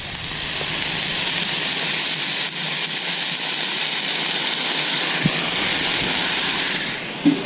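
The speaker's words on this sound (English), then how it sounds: "And get some water down." A loud, steady hiss of water sizzling and steaming on a hot Camp Chef 600 flat top griddle, continuous for several seconds with a few small pops near the end.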